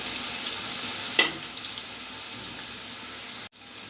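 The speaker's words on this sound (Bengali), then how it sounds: "মাছের অল্প পানি দিয়ে আমি মশলাটাকে আগে একটু কষিয়ে নিব" Turmeric and chili powder sizzling in hot oil in a pan for a fish curry, a steady bright frying hiss with one sharp crackle burst early and a brief dip near the end.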